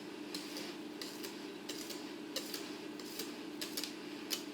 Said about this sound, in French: Il faut pas y aller, il faut y aller doucement, mais on peut le faire avec le fouet